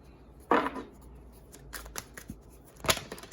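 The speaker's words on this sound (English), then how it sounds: "Just gonna cut the cards here." A deck of tarot cards gets cut and shuffled by hand, giving two or three crisp riffling bursts with quieter card shuffling between them, close to the mic and without talk.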